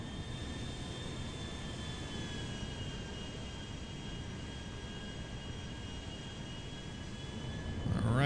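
An Airbus A340-300 airliner descending to land in GTA 5, a steady low engine roar with a faint high whine, fairly quiet and unbroken throughout.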